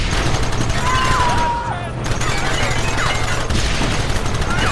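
Dense, continuous gunfire in Red Dead Redemption during a mission shootout, rattling throughout at close range with a brief lull near the two-second mark, with voices shouting in the mix.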